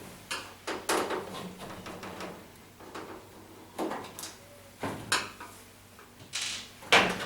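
A panel is worked loose and pulled away from a Hoover/Candy tumble dryer during a belt replacement, giving a series of irregular plastic and metal clunks, clicks and scrapes close up with no talk.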